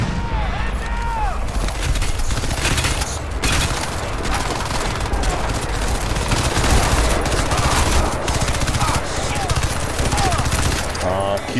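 Dense, rapid gunfire and explosive shots from the Crysis 2 video game, including a 12-gauge shotgun, continue loudly throughout with someone talking over the action.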